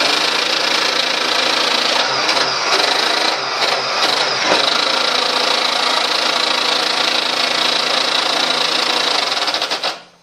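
The small electric motor of an old metal toy tank whirs loudly and continuously, a harsh, buzzing mechanical drone that holds steady for several seconds before cutting out.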